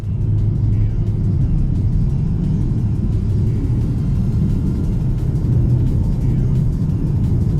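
BMW M235i with an automatic gearbox driving on the road, a loud steady low engine and road rumble heard from inside the car, continuous throughout with no talking.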